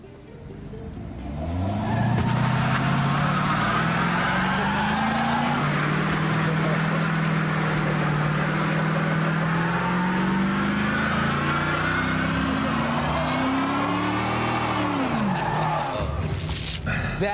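A 430-horsepower sports car revs hard and sustained while being held back, engine pitch rising and wavering for about fifteen seconds before dropping off, loud and close.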